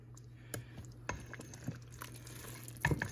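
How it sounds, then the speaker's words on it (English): A spoon stirring a thick Italian pasta sauce in a pot gives a few soft scrapes and wet squishes at a steady, unhurried pace, ending in a slightly louder burst of clinks and stirring near the end. "Let's give it a stir."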